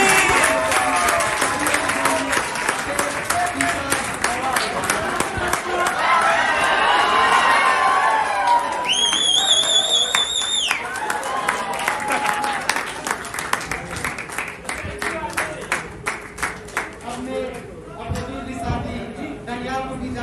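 Audience applause during a best teacher award presentation at a school gathering, a long sustained roar of clapping with cheers, shouts and chatter, thinning to scattered claps near the end.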